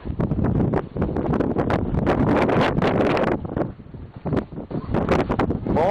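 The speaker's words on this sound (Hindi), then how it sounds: "बहुत अनएक्सपेक्टेड तेज हवा है जी यहाँ पर।" Strong, unexpectedly fierce wind gusts buffet the microphone outdoors near a cracked wall, loud roaring bursts with rustling, briefly easing before surging again.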